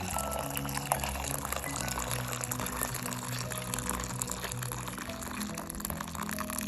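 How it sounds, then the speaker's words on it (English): Hot water pours steadily into a pot of pap (akamu/ogi), a continuous splashing, gurgling stream with a low background hum, fairly close and even throughout. "So now we're beginning to add hot water to it."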